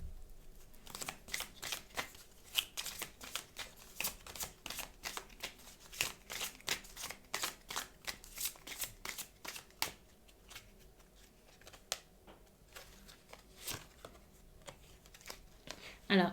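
Tarot cards being shuffled by hand in quick, rapid bursts of crisp riffling and flicking, close and fairly quiet, continuing for a long stretch with short pauses.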